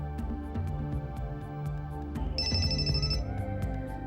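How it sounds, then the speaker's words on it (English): A telephone rings with a bright electronic ringtone in steady repeating bursts over a low background hum, clear and fairly close, with no talking. "When the phone rings, sound is detected by the ears."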